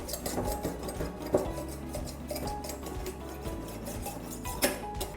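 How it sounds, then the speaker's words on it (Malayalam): A kitchen knife edge is rubbed back and forth to sharpen it, making steady, rhythmic scraping and grinding strokes with a few sharper scrapes, close by and with no talking. "നന്നായിട്ട് റബ്ബ് ചെയ്യുകയാണെന്നുണ്ടെങ്കിൽ കത്തിക്ക് ഒരു പരിധി വരെ നമുക്ക് മൂർച്ച വയ്ക്കാൻ പറ്റും"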